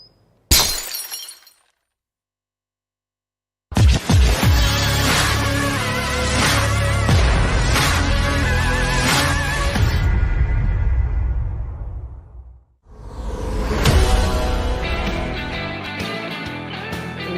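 A glass vodka bottle shatters in one loud, close crash that follows a stretch of silence, leaving long ringing debris that fades, then a second clattering burst.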